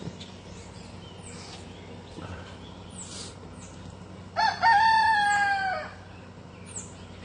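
A rooster crows once over steady outdoor background noise, a loud drawn-out call in the middle, with faint bird chirps scattered around it.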